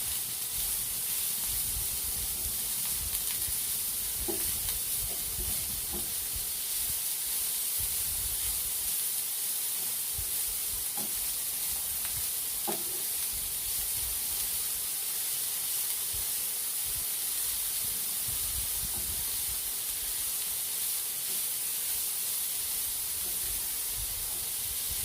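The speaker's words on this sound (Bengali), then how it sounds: "গাজরটা হালকা করে ভেজে নিচ্ছি সবগুলোই" Chopped carrots fry lightly in a pan for an oats upma, giving a soft, steady sizzling hiss that runs evenly throughout, with a few faint clinks early on.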